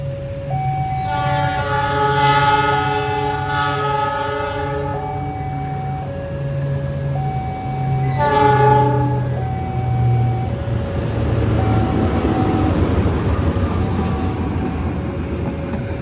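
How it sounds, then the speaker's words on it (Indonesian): CC 206 diesel locomotive on an Indonesian railway passing close by, sounding its loud horn in several long sustained blasts over a steady rumbling engine and rolling wheels. "Kalau nggak salah CC 206 1610 nih teman-teman."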